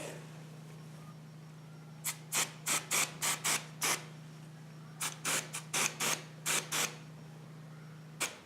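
Short bursts of L'Oreal Colorista pink hair color spray from an aerosol can, about a dozen quick hissing sprays in two clusters over a steady low hum, close and clear, with no talking.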